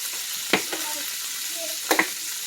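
Ground pork frying in a pan over low heat gives a steady, soft sizzle, broken by two distinct scraping stirs from a utensil, close and moderately loud.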